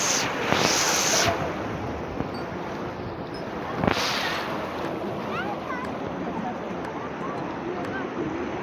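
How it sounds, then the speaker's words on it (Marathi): The Ulhas river rushes and gurgles in a steady, loud, close wash of churning water, with a few brief heavier bursts and gusts of wind. "पाण्याचा आवाज बघा खळखळाट बघा पाण्याचा"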